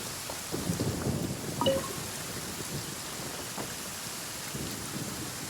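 Steady rain and low rumbling thunder fill a Genshin Impact game scene, a dense constant hiss with a brief swelling rumble early on and faint distant cracks.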